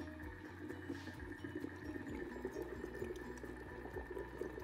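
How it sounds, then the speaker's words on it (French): Moroccan harira soup bubbling in a Thermomix near the end of cooking, a steady low bubbling and churning hum that runs throughout, with no talking. "Ça bouillonne, hein?"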